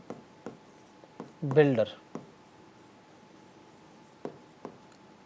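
Marker or chalk strokes on a board during a Java programming lecture on String Buffer and String Builder classes: scattered short taps and scratches at a steady pace, with a brief spoken word partway through.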